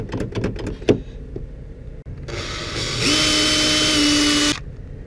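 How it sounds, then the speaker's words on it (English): A few clunks and handling noises, then a power drill with a hole dozer spins up loudly and grinds steadily against the metal of a Ford Crown Victoria police car for a couple of seconds before stopping abruptly. "I should be able to drill a hole through there."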